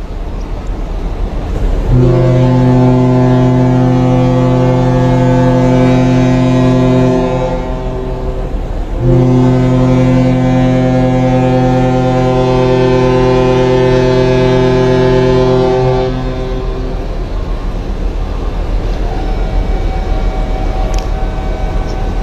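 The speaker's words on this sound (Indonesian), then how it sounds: "klakson 2 kali udah dibunyiin" The passenger ship KM Nggapulu sounds its deep horn in two long, loud blasts separated by a short pause, with faint outdoor ambience after.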